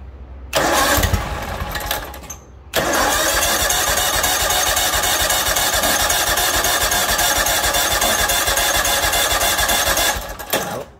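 A John Deere X324 lawn tractor engine cranks on full choke in two long, loud bursts of steady rhythmic turning, a short pause between them and no catch.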